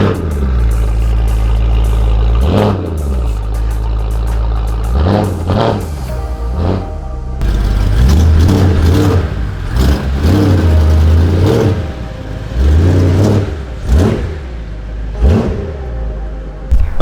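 A BMW M3 engine runs through a new exhaust with the valves open, loud and close, idling between repeated sharp revs that rise and fall several times, with no voices.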